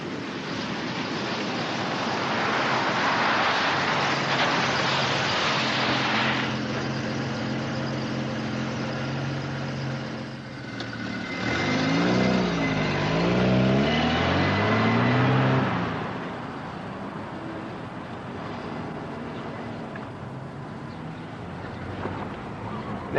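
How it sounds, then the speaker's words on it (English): A Holden Commodore with a 2850 six-cylinder engine drives along, its steady engine and road noise rising and falling, with a stretch of revving pitch sweeps midway; a voice talks over parts of it. "this particular Commodore is powered by the 2850 six-cylinder engine"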